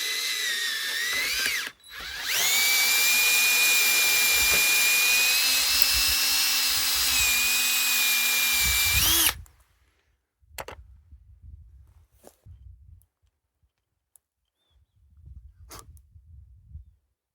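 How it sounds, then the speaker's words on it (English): A power drill whines steadily for several seconds while drilling out a part for a perimeter trip alarm, then stops, leaving scattered faint clicks and handling knocks. "So now I've drilled it out a little bit"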